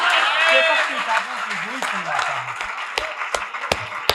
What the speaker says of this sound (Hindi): अरे तालियों की गूंज से हौसला बढ़ा दो आप